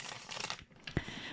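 Tarot cards shuffled by hand, a short papery riffle and crinkle with a sharp snap near the end, close and fairly quiet with no talking.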